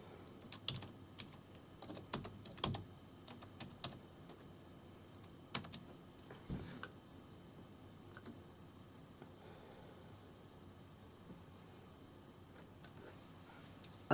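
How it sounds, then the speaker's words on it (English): Keys on a computer keyboard click in irregular bursts as a password is typed, with scattered sharper taps over a faint room hum. "Type in your password."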